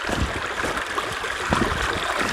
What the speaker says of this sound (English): Now we got to cross the creek.